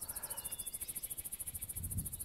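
Crickets chirp in the open countryside along the Odaesan mountain pilgrimage trail in Korea, a steady, rapid pulsing trill that repeats evenly and stays faint and continuous with no voices.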